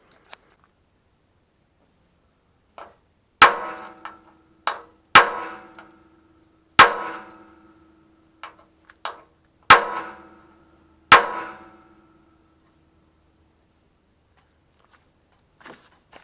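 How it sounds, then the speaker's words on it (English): Sharp metallic hammer blows strike a punch to drive a rivet out of a Chevy C10, about a dozen irregular ringing clangs of varying strength, close and loud amid quiet pauses. "now I have to try to get my punch and hammer and beat that through"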